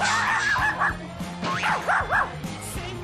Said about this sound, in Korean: 사무실은 웬 강아지가 심지어 한 마리도 아니고 여섯 마리씩이나